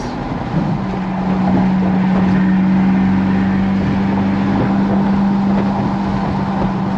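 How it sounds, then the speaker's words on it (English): A Chevrolet Corvette C8 sends out a steady, droning exhaust note that holds a constant pitch for several seconds. The tone stays close and fairly loud, with no talking over it. "The piece where it feels different for me is the exhaust note."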